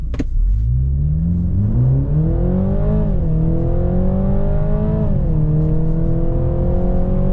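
A 2022 BMW Z4 sDrive 2.0 launching from a standstill, its four-cylinder engine revving hard and climbing through the gears, with two clear upshift dips, loud and close from inside the cabin.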